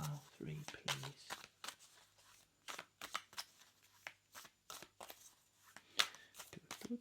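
Tarot cards drawn one at a time from a deck for a pick-a-card reading, giving a series of soft, crisp card slides and snaps at close range, scattered between bursts of talking.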